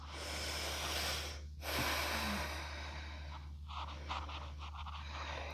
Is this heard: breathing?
yes